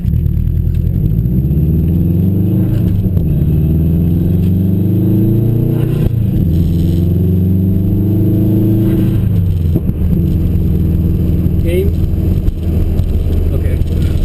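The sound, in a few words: Subaru 07 STI engine running, turbo sounding iffy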